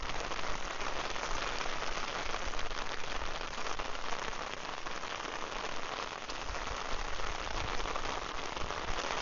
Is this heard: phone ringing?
no